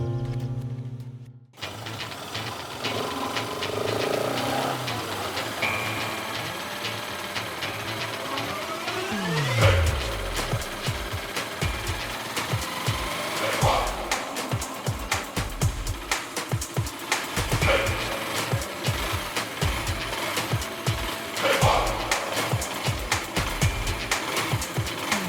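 Motorbike engine runs steadily for a long stretch, a continuous close mechanical drone with rapid rhythmic ticking, ending with no talk.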